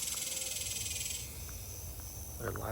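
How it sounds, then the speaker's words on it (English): A dense chorus of cicadas buzzes near old tracks, a loud, continuous high-pitched drone that is strongest at first and then eases slightly. "I've never seen or heard so many cicadas."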